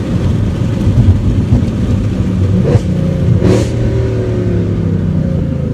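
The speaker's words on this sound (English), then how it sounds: "Not going fast though, just revving." A loud Mercedes-Benz C63 AMG engine with a RennTech tune revs steadily and throatily, with a couple of rising whooshes of throttle near the end, close and continuous.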